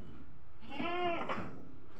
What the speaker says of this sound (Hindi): 16-7 कान की बकरी है भाई, अच्छी क्वालिटी में है